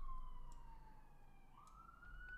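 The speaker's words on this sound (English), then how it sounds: "I get a siren effect" A rising and falling electronic siren tone, faint and thin, sounding alone for a couple of seconds in a quiet room.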